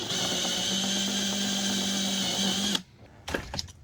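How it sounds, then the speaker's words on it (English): A power drill whines steadily as it bores a small hole to remove a teak plug in a sailboat interior, then cuts off abruptly, leaving a few brief knocks and handling noises. "First drill a small hole."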